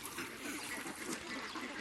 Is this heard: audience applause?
no